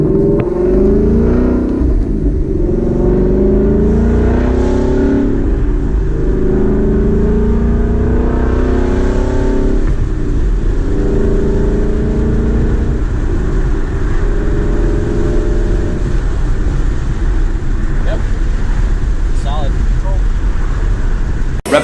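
A car engine revs after its exhaust has been bolted back on, a loud, steady drone with rising and falling pitch sweeps that runs close by for the whole stretch, with wind and some talk mixed in.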